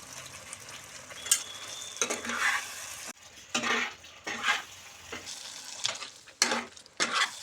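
Butter sizzles softly in a pan while paneer butter masala is stirred with coriander and garam masala, and a spoon scrapes the metal in repeated strokes. The frying stays faint and close, with no voices.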